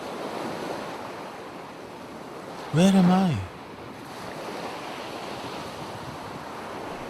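Steady ocean surf and waves roll beneath the whole stretch with a windy wash, while a brief spoken question rises over it near the middle.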